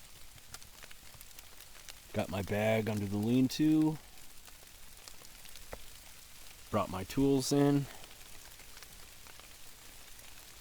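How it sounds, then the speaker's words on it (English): Light rain patters on a bush camp lean-to in a soft, continuous hiss with scattered drips, while someone talks calmly in two short bursts over it. "Looks like we're getting some rain."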